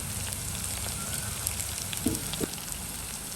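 Onions sautéing in a pan for a home-cooked lunch curry give a steady, soft sizzle that runs throughout, with a few faint clinks or taps near the end and no talking.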